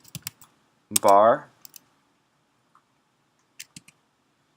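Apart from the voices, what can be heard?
typing a command on a computer keyboard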